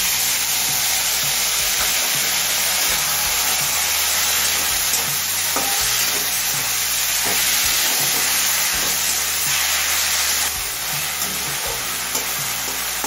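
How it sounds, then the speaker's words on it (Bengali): A splash of water hits sizzling drumstick flowers and mixed vegetables in a hot pan. Loud, dense frying hiss runs throughout, with stirring scrapes close by and no talk. "এবার খুব সামান্য পরিমাণে একটু জল দিয়ে দিচ্ছি।"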